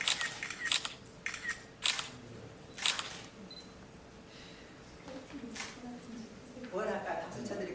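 A camera shutter clicks several times in quick separate bursts while a group photo is taken at a policy forum, the snaps standing out over a quiet hall with soft murmuring voices.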